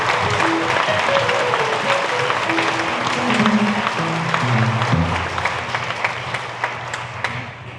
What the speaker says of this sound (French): Applaudissez ces décorations.